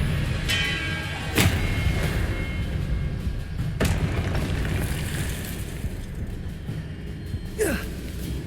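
Blasting-spell explosions in Hogwarts Legacy on PC: several sharp, separate bursts ring out against a rumbling game backdrop, each a sudden crack with a short tail, spaced a couple of seconds apart.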